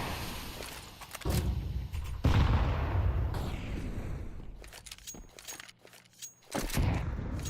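AK rifle fire in a competitive tactical shooter match, bursts of loud close gunfire with sharp cracks and rattling, pausing briefly before another burst.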